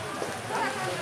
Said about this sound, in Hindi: मौसम बहुत अच्छा है, बारिश हो रही है।